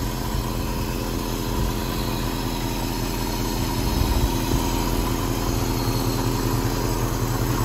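A 1966 Ford Mustang convertible in Tahoe Turquoise idles steadily with a low, even rumble and constant vibration, close and loud with no pauses, and no starter crank is audible.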